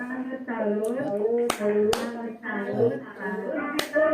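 A group of nurses in a training session performs a rhythmic chanted clapping routine, with voices chanting in unison and a few sharp claps.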